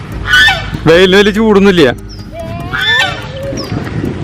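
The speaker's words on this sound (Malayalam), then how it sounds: "വാത്തകള്, പിന്നെ വെള്ളത്താറാവുണ്ട്." Geese honk at Poomala Dam in Thrissur, loud, harmonic calls rising over a stretch of conversation, with more honks breaking through the talk later on.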